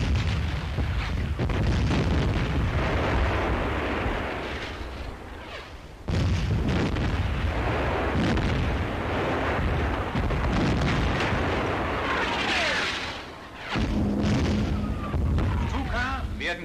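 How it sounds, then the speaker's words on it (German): Heavy artillery fire in a German WWII training film, as mountain troops attack a village under enemy shelling: dense, continuous rumbling barrage with booming bursts, loud and sustained, with a brief dip midway. "In schwerstem feindlichen Artilleriefeuer arbeitet sich ein Jägerbataillon frontal an die Ortschaft heran."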